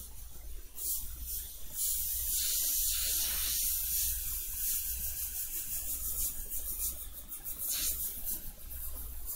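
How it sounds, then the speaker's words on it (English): An airbrush spraying paint to lay down skin texture on a model, a close, steady airy hiss with short, sharper bursts of spray over a constant low hum. "I'm really becoming a fan of doing this skin texture, specifically with this airbrush."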